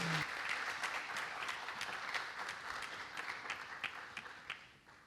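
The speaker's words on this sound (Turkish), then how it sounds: "Alkışlarla sizleri yerlerinize uğurluyoruz." An audience at a film festival award ceremony claps steadily, a broad wash of applause that gradually thins into a few sharper individual claps before fading out.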